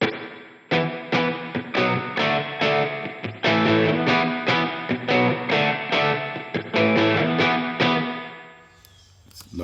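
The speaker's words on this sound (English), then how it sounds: "adjust the intensity of the spring reverb or how much ploink you might hear" A high-gain electric guitar through an HX Stomp plays a rhythmic run of chugging chords with a washy, splashy spring reverb tail, loud and close, ending in a brief fade.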